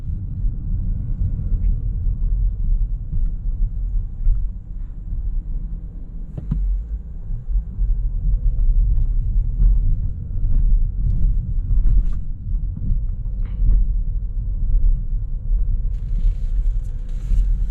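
A 2021 Ford Mustang Mach-E GT Performance Edition drives through city streets, heard from inside as a steady, loud low rumble of road and cabin noise with faint passing sounds, no one speaking.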